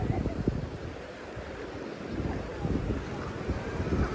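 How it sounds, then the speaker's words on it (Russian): Rough waves churn on the Caspian Sea shore near Buzovna outside Baku, a broad steady wash of surf mixed with gusting wind buffeting the microphone, with someone speaking faintly. "Такое вот сегодня море волнуется."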